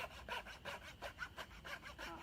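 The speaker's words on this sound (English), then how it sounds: "if you have a friend, sawing will be made a little easier" Steady back-and-forth strokes of a hand saw cutting through wood, close and rhythmic, about eight strokes with no talking.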